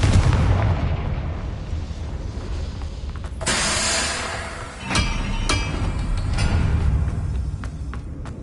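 Fiery Confringo spell blasts from Hogwarts Legacy burst in a loud, rumbling sequence, with a sharp crackling explosion mid-way followed by several quick cracks and a rolling low roar throughout.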